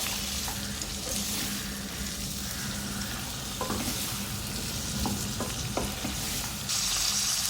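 Garlic cloves and small pieces of ginger fry in hot oil in a pan, giving a loud, continuous close sizzle with a few scattered spatula taps.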